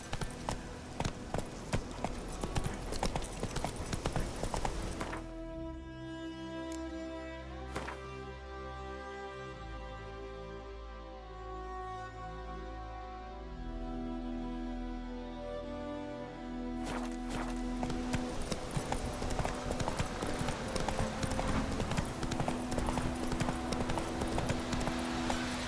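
Roach the horse gallops in The Witcher 3, hooves clip-clopping in a steady rapid rhythm throughout, loud and close under a dense layer of game music and ambience.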